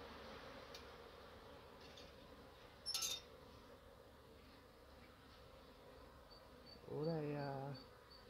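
Honeybees buzzing around a hive with drone bees, a steady low insect hum throughout, a brief louder drone swelling near the end, plus a short clink partway through.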